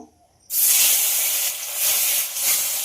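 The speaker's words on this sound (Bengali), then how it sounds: "এই গরম তেলের মধ্যে একে একে নুন হলুদ মাখিয়ে রাখা মাছগুলো দিয়ে দেব ভাজার জন্য" Fish rubbed with salt and turmeric dropped into very hot oil, a sudden loud hissing sizzle bursting in after a quiet start and holding steady, close up.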